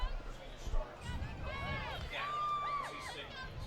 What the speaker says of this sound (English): Pretty good crowd here for Sikeston on the opening night